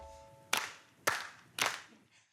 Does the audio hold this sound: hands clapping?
yes